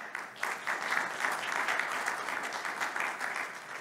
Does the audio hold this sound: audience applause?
yes